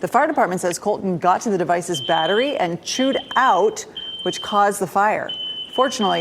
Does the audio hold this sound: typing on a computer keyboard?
no